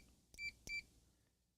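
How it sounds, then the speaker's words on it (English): Two short, quiet electronic beeps from a multimeter continuity test while a serial card from an old Data General computer is being rebuilt, with a faint steady hum underneath. "You guys can hear the multimeter beep,"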